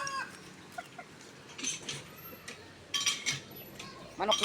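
Chickens and roosters cluck intermittently at moderate distance on a provincial farm, short scattered calls over a quiet background, a few louder bursts near the end.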